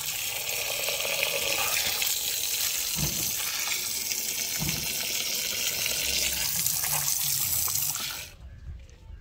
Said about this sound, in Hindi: चिकन को हम धो लेते हैं